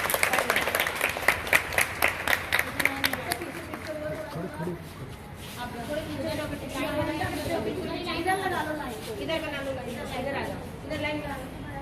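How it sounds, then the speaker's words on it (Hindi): Audience applause from schoolchildren at an inter college assembly in Roorkee, with a burst of sharp claps up front, then sustained clapping blending into crowd chatter and babble. "तो सभी बच्चे ताली बजा के उनका स्वागत करेंगे"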